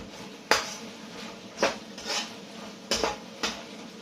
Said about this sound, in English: Keep it moving around the pan, we don't want it to